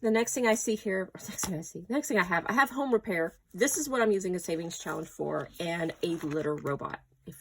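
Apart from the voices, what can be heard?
None of the usual background noises is heard.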